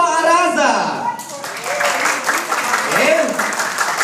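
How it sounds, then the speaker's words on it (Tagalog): A reunion crowd of the LPHS Class of 1986 in Tacloban City claps and cheers to vote for a teacher, applause swelling in waves under a host speaking over a microphone. "Ang pinakamaraming palakpak daw."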